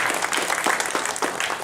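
Brief, moderately loud applause from a seated crowd honoring two orientation volunteers, a steady patter of many hands with no voices.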